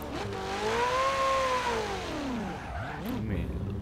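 A car engine in the video game Forza Horizon 4 winds down as its revs fall, the pitch sliding lower, with tire noise and a background voice mixed in.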